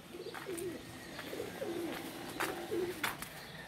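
Pigeons cooing during a pigeon-flying competition, a soft repeated coo-coo phrase recurring about four times at moderate distance over a quiet outdoor background with faint bird chirps.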